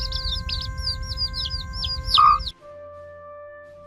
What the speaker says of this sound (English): Chick chirping. The short, high-pitched, repetitive sounds made by chicks.